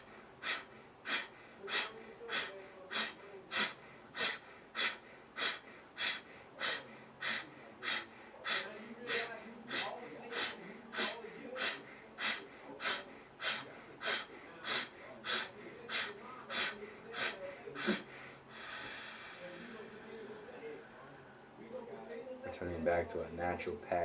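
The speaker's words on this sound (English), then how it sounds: "inhale passively and exhale forcefully" Forceful exhalations in a pranayama breathing exercise follow one another in a steady, rapid rhythm of sharp breaths, close and clear, then ease into softer breathing near the end.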